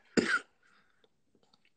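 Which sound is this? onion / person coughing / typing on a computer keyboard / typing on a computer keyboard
person coughing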